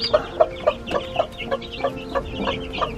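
Several chickens, among them silkies, a cuckoo marans and a crested Polish, cluck close by in a steady rhythm of short, repeated calls with no talking.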